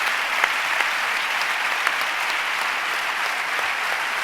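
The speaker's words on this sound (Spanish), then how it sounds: "Fuerte aplauso para ellos." Sustained applause from a concert audience for the speakers, many hands clapping in a steady, even roar that holds at a constant level throughout, close and full.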